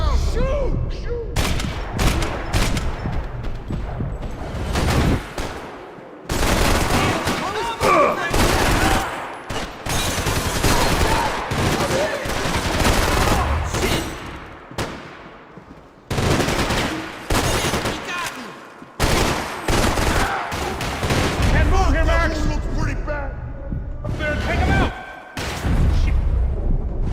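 Rapid bursts of gunfire and heavy explosions from a shooter video game, loud and near, broken by short gaps, with a player shouting over the shots.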